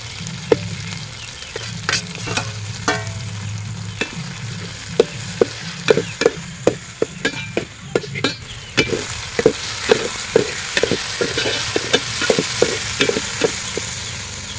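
Tomatoes added to ginger-garlic paste sizzle in a hot pan while a spoon stirs and scrapes them in quick, repeated clicks and knocks over a continuous close frying hiss.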